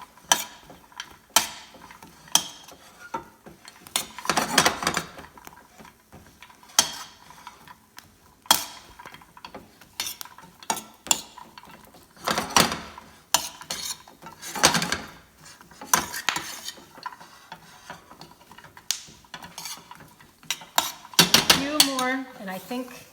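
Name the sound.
stirring caramelized almonds in a pan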